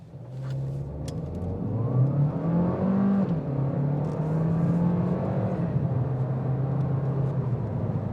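A 2020 Audi A3 Sportback S Line with a 1.5 TSI engine and seven-speed automatic accelerates hard from a standstill toward 100 km/h, its engine note climbing steadily and smoothly through upshifts, loud and continuous inside the car.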